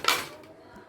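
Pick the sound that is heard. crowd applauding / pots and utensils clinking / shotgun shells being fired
pots and utensils clinking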